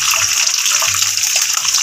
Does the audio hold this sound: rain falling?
no